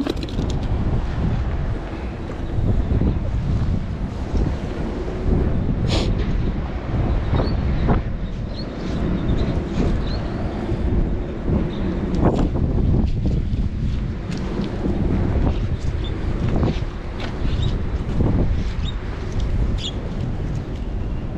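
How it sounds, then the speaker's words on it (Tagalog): Strong, gusty wind buffets the microphone outdoors with a continuous loud low roar and occasional sharper bursts, steady throughout with no voices. "Grabe yung lakas ng hangin"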